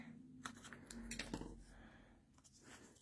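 Scissors snip a small dimensional adhesive foam piece from the end of a strip during a papercraft project, a few quiet, close cuts with soft handling noises in between.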